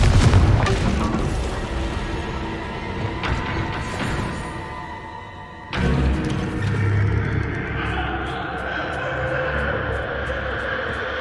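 A Confringo spell explodes with a booming blast during Hogwarts Legacy gameplay in a haunted Hogsmeade shop. A loud rumbling impact cuts in over ongoing game noise and then decays into a sustained roar.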